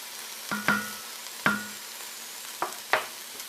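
Garlic sizzles softly in a pan under a handful of sharp utensil taps and clinks, spaced irregularly across a few seconds.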